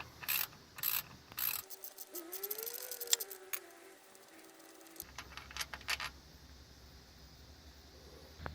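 A ratchet breaks loose the bottom starter bolt on a 2000-2007 Ford Taurus 3.0, with quick close clicking bursts, a stretch of faint squeaky mechanical whine, then more scattered clicks and clatter.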